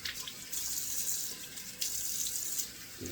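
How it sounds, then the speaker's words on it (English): Cold water runs from a tap into a sink while shave soap is rinsed off, a close, steady splashing stream that shifts in intensity as hands move through it. "Cold water, rinse it back off again."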